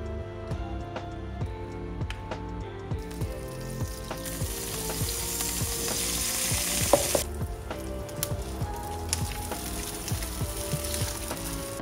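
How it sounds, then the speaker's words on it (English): Corn tortillas with meat and cheese frying in fat in a pan, a continuous close sizzle with occasional scraping and stirring taps, no talking. "Into a pan, add this fat, your corn tortillas, some meat and some cheese, fold it over and kind of fry"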